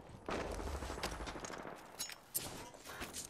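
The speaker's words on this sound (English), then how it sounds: "Firing. Getting shot at." Rapid gunfire bursts from the Apex Legends video game, sharp repeated shots with a couple of louder cracks, loud and continuous through the short stretch of play.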